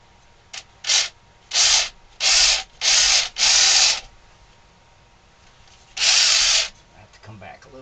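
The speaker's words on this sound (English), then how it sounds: "so I want to drill a hole here" A power drill boring a hole in wood while a ventriloquist dummy figure is built, sounding as six short whirring bursts of roughly half a second to a second, with quiet gaps between them and no talking.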